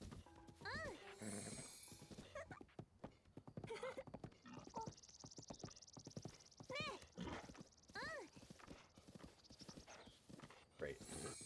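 Horse hooves clip-clopping at a gallop in The Legend of Zelda: Breath of the Wild, a steady rhythmic beat with occasional whinnies, mixed under continuous talking.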